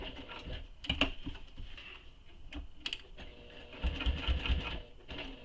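A sewing machine runs top stitching on a handmade satchel in uneven, rapid mechanical bursts with a few sharper clacks, close and moderately loud, with no voices.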